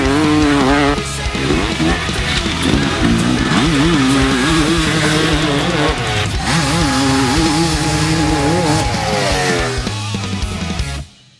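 A two-stroke motocross dirt bike rides hard, its engine buzzing and revving loudly and continuously near the listener, rising and falling with throttle changes before cutting out at the end.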